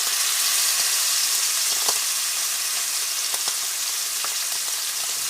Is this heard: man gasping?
no